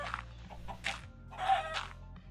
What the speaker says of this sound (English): I think I just killed the chicken inside the block.